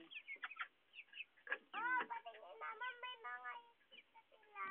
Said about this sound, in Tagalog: Ang manok ni Jandel at Jasya.